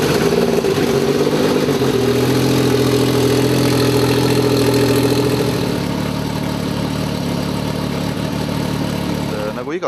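A drag race car from the Nitro Nationals fires up and settles into a loud, rough, lumpy idle close by, steady for several seconds before shutting off near the end.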